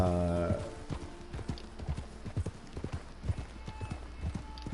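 Horse hooves clip-clopping in the Red Dead Redemption 2 Online cowboy game, a steady run of close, sharp footfalls over a low rumble, with a brief whinny-like tone at the start.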